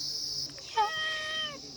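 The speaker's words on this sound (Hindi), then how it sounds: "सो वहाँ पर बिल्ली रानी है।" A cat meows once, close and clear, a drawn-out rising and falling cry of about a second over a steady background hiss.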